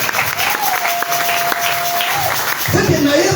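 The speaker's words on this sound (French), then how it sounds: "Acclamez le Seigneur Jésus-Christ." A church congregation applauds in a loud, steady wash of clapping while a speaker's voice carries over it.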